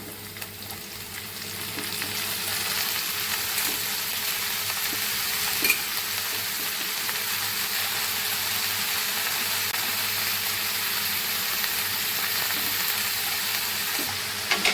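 Loud, continuous sizzling of chopped onions and chillies frying in hot oil with curry leaves and peppercorns for banana flower poriyal, steady from start to finish with faint stirring clicks and no talking.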